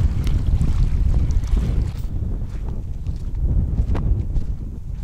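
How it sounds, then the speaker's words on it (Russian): Strong gusty wind on the Amur River buffets the microphone with a deep roar, easing slightly partway through before rising again. "Ветер временами то начнется, то закончится."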